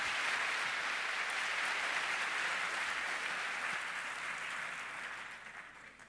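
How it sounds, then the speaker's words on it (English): Lecture-hall listeners give a warm welcome to a lecturer, a dense and sustained wash of clapping from many hands that holds steady, then slowly thins and fades toward the end. "Please give him a warm round of applause."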